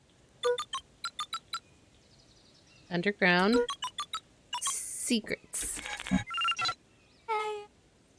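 Keypad entry tones from a phone booth in the video game Beacon Pines: a run of short, evenly spaced electronic beeps, then chimes and a swell of game music, with a voice speaking between them.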